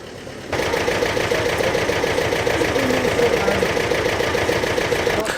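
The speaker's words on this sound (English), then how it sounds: "Apparently it's got a 2-cylinder engine." A 1960 two-cylinder engine runs steadily at a classic car meet, giving a loud, continuous, even chugging that sets in after a brief quieter start and holds throughout with no talk over it.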